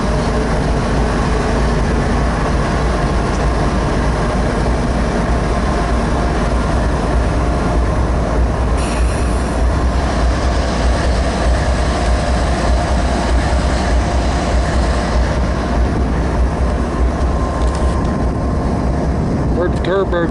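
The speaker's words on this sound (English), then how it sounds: "Turbo kicking on in one earlier. Relieving air pressure." Idling diesel locomotives in a rail yard in Somerset, Pennsylvania, rumbling loud and steady throughout, with a turbo spooling up and a brief burst of released air pressure near the middle; a voice talks over it.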